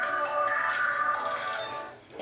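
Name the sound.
mobile phone ringtone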